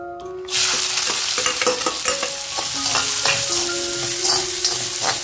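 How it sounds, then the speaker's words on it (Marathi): Onion frying in oil left over from frying fish, for a dried fish gravy: a loud, close sizzle starts suddenly and continues with spatula stirring and scraping throughout. "आता ह्याच तेलामध्ये मी कांदा फ्राय करून घेते."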